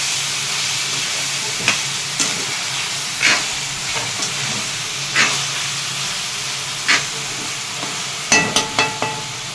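Masala paste with raw banana pieces cooks in a pan with a steady close hiss of steam and bubbling, broken by brief scraping clicks of stirring at irregular intervals.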